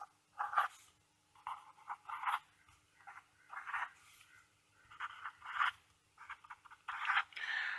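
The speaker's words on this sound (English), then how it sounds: "we also have to draw the state diagram" Drawing a state diagram by hand: close, irregular bursts of scratchy pen strokes, some short and some longer, separated by brief pauses, with no voices.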